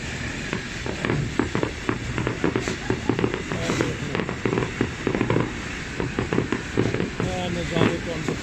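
Firecrackers bursting outdoors by a river in Germany, with police, an ambulance and a ship nearby: rapid, irregular sharp bangs and crackles fill the whole stretch, loud and close, while people talk over them.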